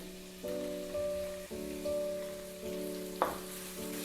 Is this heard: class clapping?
no